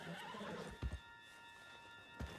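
A horse in Red Dead Redemption 2 lets out a whinny, then a couple of sharp hoof clops land close together, with another hoof strike near the end over a quiet outdoor game ambience.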